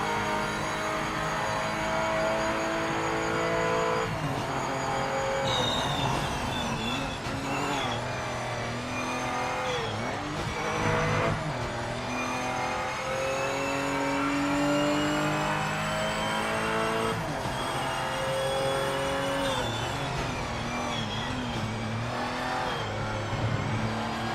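A race car engine in the video game Project Motor Racing drones continuously for the whole stretch, rising and falling through gear changes and revs, with occasional tire squeal and no voices.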